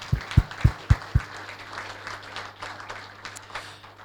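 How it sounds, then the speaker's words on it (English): An audience at a live event claps after being thanked, a few sharp close claps at the start giving way to a steady wash of applause that fades gradually, with no voices over it. "So can I get everyone to give themselves a big round of applause"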